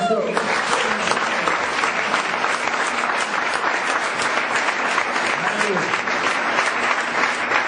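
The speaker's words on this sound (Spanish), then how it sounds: "Vamos a dar un fuerte aplauso al Señor." A church congregation gives a strong, prolonged round of applause to the Lord, many hands clapping close and loud, with voices shouting and speaking through it for the whole stretch.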